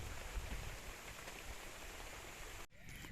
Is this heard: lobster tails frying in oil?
no